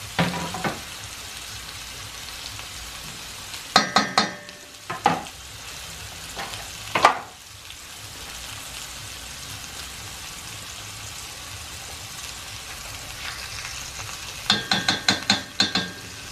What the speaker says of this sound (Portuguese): Aí a gente deixa fritar bem um lado, depois o outro.